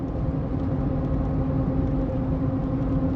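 A Ford F-550 Bison overland truck camper travels down the road at night, filling the cab with a steady, loud low drone of engine and road noise that holds level throughout without a break.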